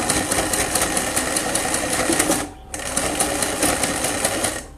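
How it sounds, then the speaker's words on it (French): A sewing machine stitches a fabric protective face mask, running in a fast, steady close mechanical whir with a rapid needle rhythm, briefly stopping for a moment midway before starting again. "Et je termine ma couture"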